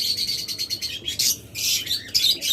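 Red-eye pet birds such as lovebirds or budgerigars chirp rapidly and continuously at close range, a busy high twittering of several birds together.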